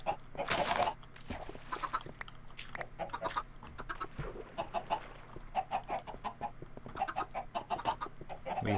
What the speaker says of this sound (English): All those chickens are there, I guess.